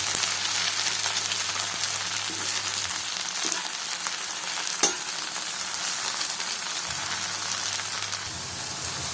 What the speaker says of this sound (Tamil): எண்ணெயில் இந்த கீரைகளை போட்டு நல்லா வதக்கி எடுத்துக்கலாம்